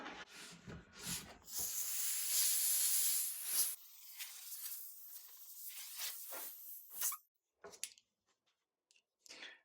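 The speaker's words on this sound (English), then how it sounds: "I like this type of a blower instead of this one." A shop air blower with a rubber tip gives a steady, close hissing blast for a couple of seconds, then shorter scattered puffs and clicks that fade into near silence at the end.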